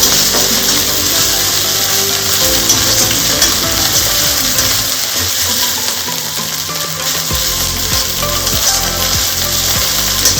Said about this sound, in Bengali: রসুন আদাটাও পেঁয়াজের সাথে ভালোভাবে ভেজে নেব।